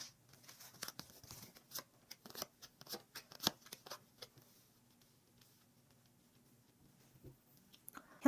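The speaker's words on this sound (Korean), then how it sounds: "그러면 카드 뽑겠습니다." Tarot cards are shuffled and drawn by hand, producing a series of soft, quick, irregular riffling clicks and snaps, close and quiet, that thin out toward the end of the shuffle, with no talking.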